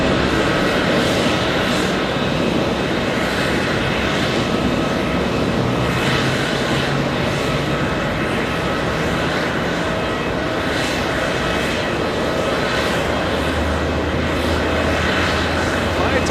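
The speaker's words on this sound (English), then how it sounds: "Departure Delta 311 heading to San Francisco, giving us a left bank right after departure from that wonderful 13 right runway." A Delta jet airliner departs runway 13 Right at JFK airport, bound for San Francisco. Its engines make a loud, continuous broadband roar that holds steady for the whole stretch and is heard alone, without voices.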